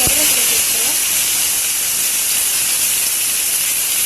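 Curry leaves dropped into hot sesame oil with popped mustard seeds and asafoetida, giving a loud, steady hissing sizzle that fills the pan, close up and continuous.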